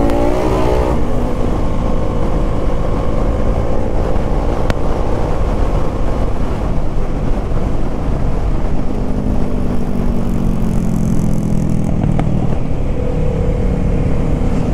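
Old-version Kawasaki Ninja 650 motorcycle on a Sunday group ride: a loud, continuous engine drone with shifting pitch as it revs, mixed with rushing wind noise, close and without talk.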